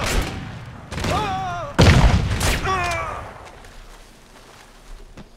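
Shotgun blasts from the Crysis video game, a few heavy booming shots among the chaos of battle with shouted voices and combat noise overlapping.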